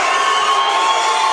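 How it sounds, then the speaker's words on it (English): A packed gym crowd at a 2015 boys high school basketball game between Uintah and Union roars and cheers after a three-pointer, a steady, loud wall of shouting voices. "The crowd, they're going crazy"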